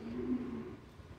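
Low, soft cooing of pigeons close by in a loft, a short rolling coo with faint rustling underneath.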